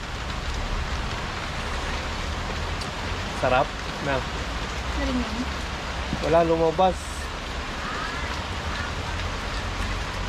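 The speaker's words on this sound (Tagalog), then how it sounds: "lalo ngayon naulan na" Steady rain falls outdoors as a constant soft hiss of drops on surfaces, with someone talking intermittently above it.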